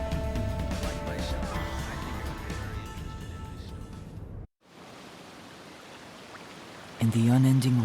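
Steady broadband hiss of rain falling through a neon city in the video game Master Detective Archives: Rain Code, following a stretch of music and ending as a voice comes in.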